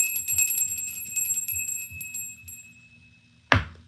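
A single bright notification bell chime rings out once near the end, sharp and clear, with a ringing decay after a quieter stretch of music-like background.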